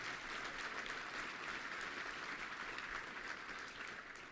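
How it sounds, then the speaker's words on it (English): A large luncheon crowd at a touchdown club meeting bursts into steady, dense applause for the executive director and volunteers, the clapping sustained and even throughout before easing slightly at the end. "Let's give a big round of applause to Debbie and all of our volunteers"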